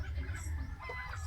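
A chicken clucks faintly amid steady outdoor background noise, as chickens are prepared for a wedding meal.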